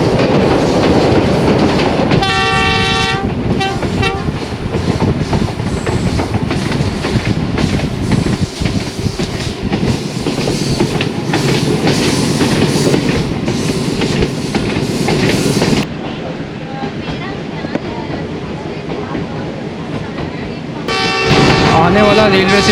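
Bulleh Shah passenger train running on branch line rails between Lahore and Khudian Khas, a loud, steady rolling roar of wheels on track with horn blasts near the start and end, and a voice speaking over it.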